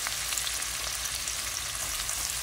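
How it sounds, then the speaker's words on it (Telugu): Onion and green chili pieces fry in hot oil for a samosa potato filling, giving a constant close sizzle with faint crackles. There is no talk. "ఇప్పుడు నూనె మరిగింది. అందులో నేను 1 ఉల్లిపాయ వేస్తున్నాను"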